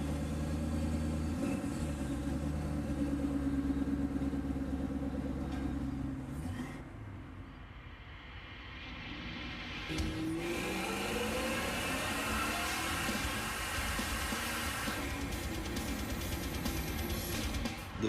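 Whipple-supercharged car making a pass on a street, a loud engine roar that drops off briefly mid-run then builds again with rising revs as it accelerates away.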